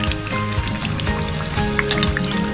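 Keema kachori fry in oil over medium heat, giving a steady close sizzle with scattered crackles and pops throughout, no talking.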